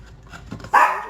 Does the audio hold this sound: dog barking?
yes